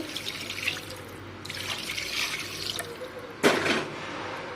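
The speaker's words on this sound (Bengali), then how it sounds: "তো এখানে পানি দিয়ে দিচ্ছি" Water poured into a pot of biryani, splashing bursts over a low background hum, ending in a sharper splash, close and moderately loud.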